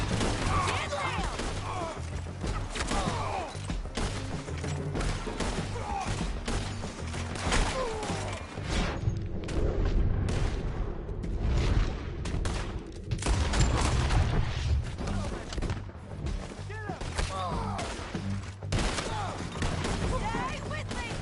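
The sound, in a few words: gunfire in the Red Dead video game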